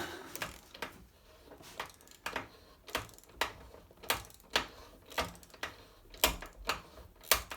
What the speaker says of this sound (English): So we'll just get that bolt removed.